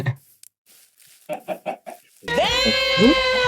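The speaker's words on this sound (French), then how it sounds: "Merde, c'est des poulets." A few soft taps, then chickens in a video game cluck and squawk loudly and continuously, close by.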